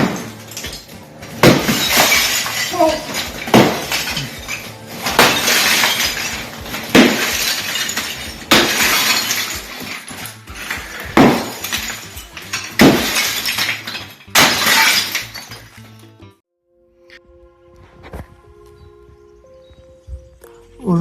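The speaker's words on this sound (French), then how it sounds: "l'autre il s'éclate à casser des murs pendant que moi je vais à la déchette" Walls smashed during demolition, loud close repeated crashes of breaking material with glassy shattering debris roughly every second or two, then a quieter stretch of light clinks and faint knocks.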